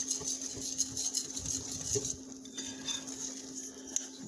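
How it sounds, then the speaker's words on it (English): A spoon stirs vegan pancake batter in a bowl, giving quick, close clinks and wet scraping strokes in an uneven rhythm, fairly quiet, with a faint steady hum underneath and no voices. "you just keep stirring and stirring until it's nice and smooth"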